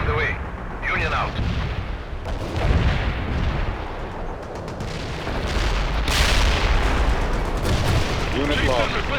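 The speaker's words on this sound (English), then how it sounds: "Barrage is on the way." Heavy artillery barrage in the World in Conflict battle game, with dense booming blasts and rumbling impacts rolling continuously, swelling louder in the second half, with radio-style voice chatter faintly mixed in.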